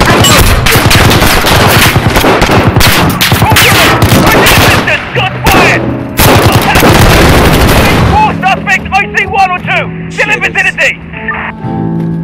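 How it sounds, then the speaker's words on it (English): Rapid bursts of automatic gunfire crackle almost nonstop in Call of Duty: Modern Warfare on PS4, loud and close, with shouting voices mixed in before the shots thin out near the end. "Automatic weapons!"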